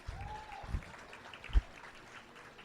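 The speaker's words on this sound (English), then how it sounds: "give these seniors a big round of applause" Faint, distant applause from a county fair crowd for senior dairy showmanship exhibitors, a soft, steady patter with a couple of low thumps.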